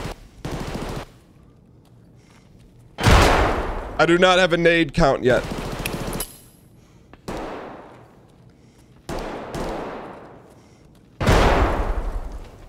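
Bursts of gunfire in a tactical shooter game set in a factory map, with sharp single shots and rapid automatic volleys coming in several separate loud bursts, some nearer and some farther, while a player talks in between.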